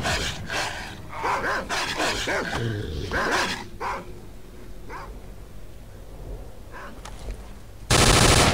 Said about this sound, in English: Didn't quite expect to be mobbed by dogs so easily